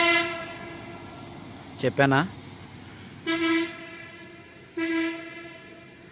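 A vehicle horn blares three times in hilly country near the Rapur waterfall and Siddheswara temple. One warbling blast is followed by two longer steady tones, each ringing out over a quiet background, with a short spoken remark.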